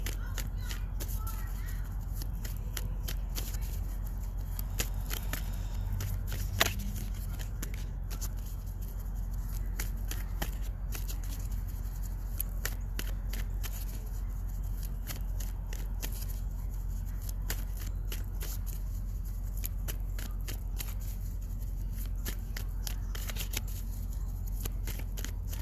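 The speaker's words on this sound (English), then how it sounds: "Keep shuffling, guys, and just see what comes up" Tarot cards are shuffled outdoors in nature, a steady soft riffling and clicking that runs continuously and fairly quietly against a low rumble of background wind and ambience.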